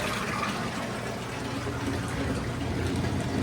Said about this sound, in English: It is spinning. It's draining.